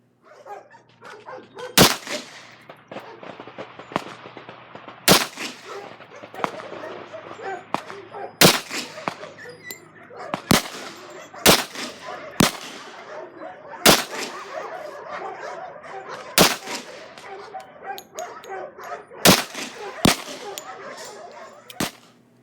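.45 ACP pistol loaded with 5.8 grains of Unique powder fired at a range, about a dozen sharp, loud shots spaced irregularly every one to three seconds, each a sudden crack over a low background.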